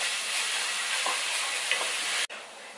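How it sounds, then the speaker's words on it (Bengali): Rice frying in ghee is stirred in a pan, giving a steady close sizzle with scraping strokes of the spoon throughout. "এটাকে একটু হালকা আমরা একটু ভাজা ভাজা করে নেবো আর কি ঘিতে"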